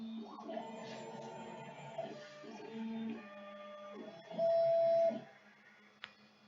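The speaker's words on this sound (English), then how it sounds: "As you see here, is the printer fixed?" A 3D printer runs mid-print, its stepper motors whining in shifting pitched tones that start and stop in bursts, with one louder sustained passage and a sharp click near the end.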